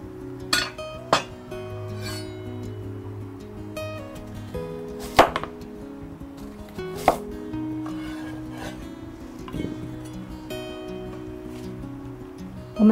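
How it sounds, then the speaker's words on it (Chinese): A knife slices carrots on a cutting board, giving a few scattered sharp chops and clicks over a steady bed of background music, with no voices. "接下来我们来切红萝卜，红萝卜把它切片"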